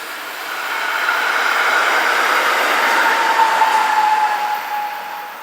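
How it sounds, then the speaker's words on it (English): A Rhaetian Railway Allegra electric train with a Sakura Blossom sticker passes steadily, a broad swelling rumble and rail hiss with a faint wheel squeal, loud and close, then easing off. "Our first all-Bullabon train of this trip."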